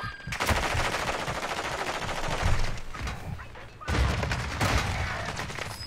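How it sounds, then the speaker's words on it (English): Sustained automatic gunfire in a shooter video game, rapid dense bursts of shots filling most of the stretch with a short break before another loud volley. "That dude shot me through rocks and everything"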